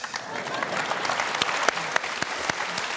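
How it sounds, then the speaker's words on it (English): An audience at a Q&A with Prime Minister Kevin Rudd breaks into sustained applause, a dense crackle of clapping filling the room throughout. "I'd like to ask you to give a round of applause."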